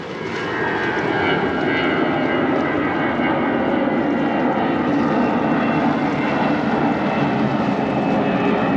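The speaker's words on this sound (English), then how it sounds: "An aeroplane going." A loud, steady roar of an airplane engine passing overhead by the sea in Palma de Mallorca, building quickly at the start and holding throughout with no voices.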